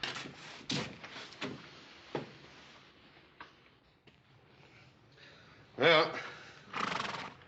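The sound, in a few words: horse neighing and hooves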